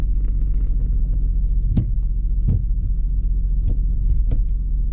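A Mitsubishi 3000GT VR4, restarted after many years off the road, runs with a steady close engine rumble, broken by a few sharp clicks and knocks.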